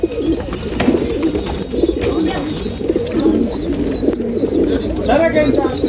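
A festival racing pigeon in a Nashik loft coos continuously in low, rippling phrases, close and fairly loud, while someone talks over it and small birds chirp faintly.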